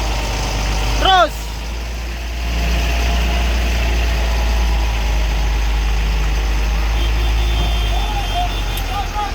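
A dump truck on the extreme uphill road at Kedabuhan rumbles with a deep, steady engine drone that persists throughout, with brief shouted voices and a short squeal early on.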